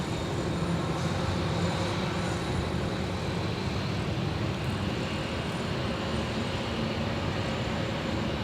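An Air Tahiti Nui Boeing 787-9 Dreamliner airliner at LAX, a continuous loud broadband jet engine roar holding steady throughout with no voices.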